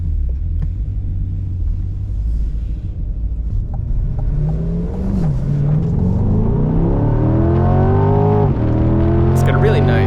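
A C8 Corvette Z51 pulls away, starting as a low rumble that climbs into a loud, rising engine note through several upshifts, heard from inside the car with some talk mixed in.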